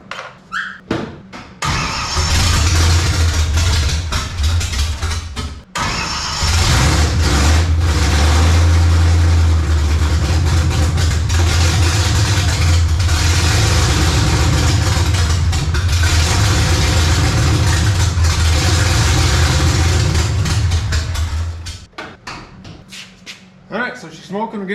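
A 1955 Chevy with a small-block V8 idles loud and close after starting, a steady rumble holding for most of the stretch, with a brief dip where it stumbles near the start and people talking over it.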